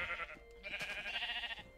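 Sheep bleating in a video game, a few wavering calls overlapping at close range, fairly quiet and without talk.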